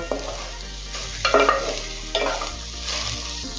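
A spatula scrapes and stirs through rice in a hot pan, with a steady sizzle underneath and a few louder clattering strokes.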